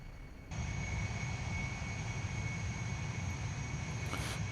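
F-100D Super Sabre jet engine in DCS, a steady loud drone starting abruptly and holding a continuous whine with low rumble, a brief mechanical clunk near the end.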